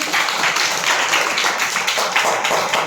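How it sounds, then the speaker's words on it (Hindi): Schoolchildren at a primary school clap for farmers who grow grain: dense, steady applause from many small hands, close and fairly loud, with no voices over it. "उन किसानों के लिए जो हमारे लिए अनाज उगाते हैं उनके लिए तालियां बजा लो"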